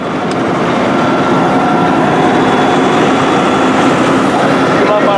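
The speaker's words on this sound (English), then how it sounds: "let's climb up in the cab of the John Deere 9330 to see the farmer's perspective of operating this big tractor" Steady, loud low drone of a John Deere 9330 4WD tractor's engine, heard from inside the cab while pulling a forage harvester chopping corn, constant and unbroken throughout.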